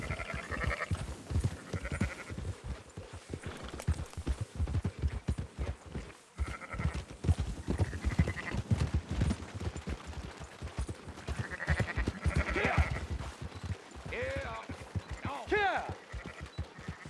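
Sheep in the Red Dead Redemption 2 video game bleat repeatedly at close range, with several wavering calls rising over a busy bed of game sounds, and voices talk in between.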